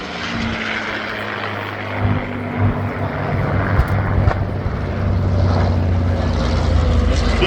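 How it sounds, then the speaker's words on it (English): A B-25 bomber passes at the EAA AirVenture airshow, its piston engines and propellers making a deep, rumbling drone that swells louder and rougher as the aircraft nears. "right back behind him now from the east pattern, the B-25s"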